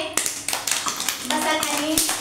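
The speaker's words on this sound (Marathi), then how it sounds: "छान. टाळ्या वाजवा रे." Children in an anganwadi classroom in Dhalgaon clap hands in scattered, uneven bursts, with a voice and chatter mixed in over the claps.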